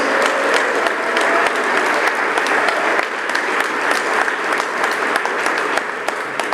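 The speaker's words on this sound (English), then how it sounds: "Let's give these student athletes a great round of applause for all their accomplishments" Loud, sustained applause from a large audience, many hands clapping continuously with a few sharper claps standing out.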